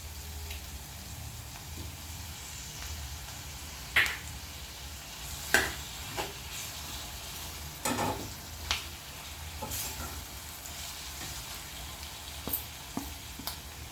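Chopped tomatoes go into a pan of frying capsicum masala curry, with a steady low sizzle and occasional soft clicks and taps from the pan and spoon.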